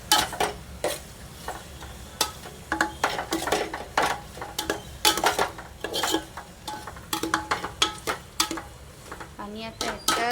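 Pasta masala is stirred and fried in a pan, with repeated scraping and clinking strokes of a spoon against the pan over a steady low sizzle, close up and fairly busy throughout.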